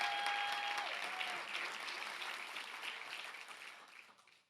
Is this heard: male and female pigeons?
no